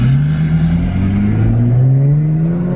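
A lifted, turbocharged Ford F250 truck engine revs loudly and close. Its pitch climbs smoothly over a few seconds as the engine spools up.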